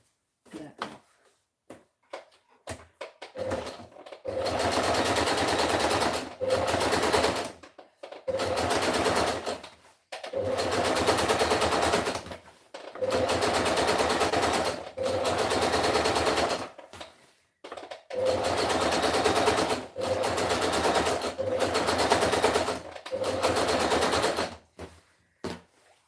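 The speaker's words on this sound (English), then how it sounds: "I'm gonna be stitching that off." Sewing machine stitching in repeated bursts of a few seconds each, separated by short pauses, loud and close, with no talking.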